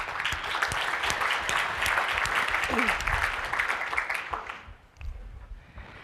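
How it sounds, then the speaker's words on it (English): A conference audience applauds steadily for several seconds, the clapping dense and close before tapering off near the end. "So one round of applause for the steering committee and for John Strunk"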